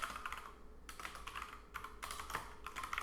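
Quick bursts of key presses on a computer keyboard as a name is typed, close and clear in a quiet room with no talking.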